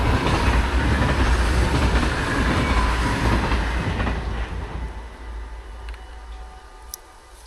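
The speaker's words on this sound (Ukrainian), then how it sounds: "Зараз поїзд проїде." A train rumbles past close by in the Netherlands, loud clattering and roaring that gradually fades away, leaving quieter ambience with a faint click near the end.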